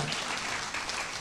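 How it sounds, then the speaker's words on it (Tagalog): Scattered clapping from a church congregation during a sermon, a steady dense patter filling the short moment with no voices over it. "parang dito lang may pumapalakpak eh"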